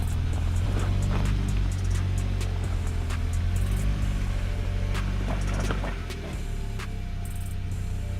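A mid-size SUV revs and throttles on an off-road test course with its wheels slipping, a loud, deep engine drone with rattles and knocks, and the pitch drops as the throttle eases near the end.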